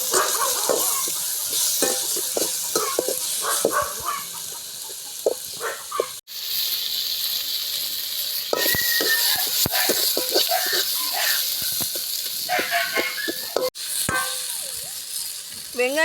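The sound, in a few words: onions and tomatoes sautéing in a pan for fish curry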